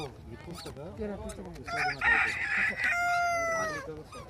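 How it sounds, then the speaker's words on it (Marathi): A rooster crows a long, drawn-out call, loud and nearby, after some clucking and scattered chatter from hens in the background. "इकडे कोंबडे बघा, किती किलो असल्या कोंबड्या"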